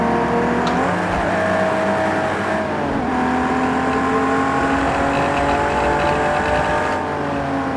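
A Ferrari 250 GT engine in a racing video game revs and drops through gear changes under heavy trail braking, its tone sweeping down and back up several times, loud and close with no talk.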